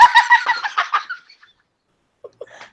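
A chicken clucking sound effect gives a rapid run of sharp, close clucks that trail off, followed by silence and two or three faint final clucks.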